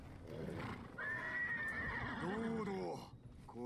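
A horse in the Ghost of Tsushima video game gives a long, shrill whinny that rises and wavers, followed by lower snorting neighs, with soft hoof clops beneath and a voice murmuring faintly in the background.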